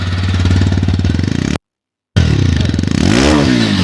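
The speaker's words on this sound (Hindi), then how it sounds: "एक बार मैं इसका साउंड सुनाता हूँ कि इसका साउंड कैसा है एग्जॉस्ट का।" A modified exhaust on a TVS Raider 125 motorcycle, a loud close rapid thudding idle that cuts out abruptly, then returns with a rising rev.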